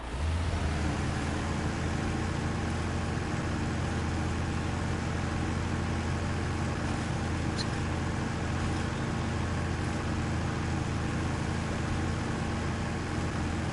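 A truck engine in the video game SnowRunner drones steadily at low pitch, a loud, unbroken rumble with no clear revving changes throughout.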